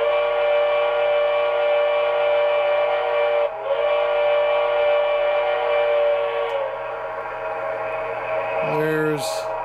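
A steady engine hum from a Broadway Limited PRR S2 6-8-6 turbine model locomotive runs throughout, then a short, bright steam-style whistle toots near the end.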